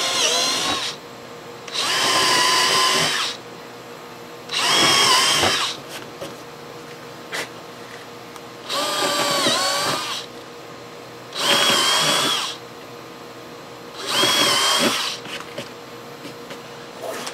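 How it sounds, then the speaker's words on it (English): Power drill boring a series of holes into a golf cart seat, six separate bursts of high whining drilling, each about a second or two long, separated by short pauses with a faint background hum. "that drill bit gets hot when it drills that many holes"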